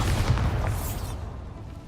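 Bombarda blasting spell explosion in Hogwarts Legacy: a loud, deep boom with rumbling debris that fades over about two seconds, heard alone.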